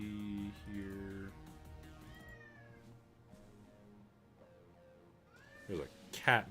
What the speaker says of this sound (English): There's a cat meowing behind me too.